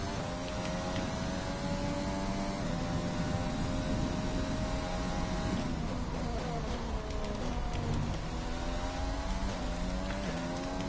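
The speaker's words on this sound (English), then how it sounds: "this engine sounds so good off throttle. I love the sort of burbling," F1 car from the video game F1 2020, engine and exhaust burbling and spitting off throttle, a loud continuous rumble with shifting pitch sweeps and crackles, heard alone.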